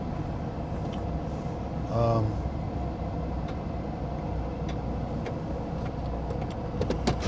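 A car being driven on a road, heard from inside the cabin as a steady low rumble of engine and road noise, with scattered faint ticks and a brief louder swell partway through.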